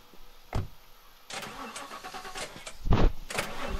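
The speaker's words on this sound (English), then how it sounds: "I don't remember cars ever taking that long to start." Car engine starting in The Last Stand Aftermath video game, with several cranking bursts before the motor catches and runs on, fairly close and loud, no talking over it.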